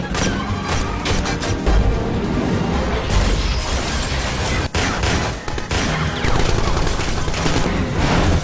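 Heavy gunfire crackles nonstop in loud, dense bursts mixed with booming impacts and a busy action-scene din from an action film.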